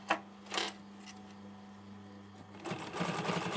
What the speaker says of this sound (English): I'm sewing on the actual body